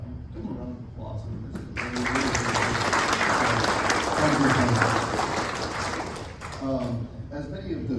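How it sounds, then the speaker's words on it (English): Audience applause at a Kansas Baseball Hall of Fame induction, rising after a brief spoken line into a full, steady round of clapping that lasts several seconds before tapering back into speech. "Give them a round of applause."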